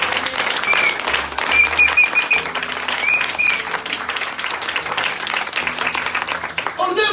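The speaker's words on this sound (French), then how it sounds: "Je vais acclamer le Seigneur." A church congregation applauding and cheering for the Lord, a sustained wash of clapping from many hands with a voice speaking over it throughout.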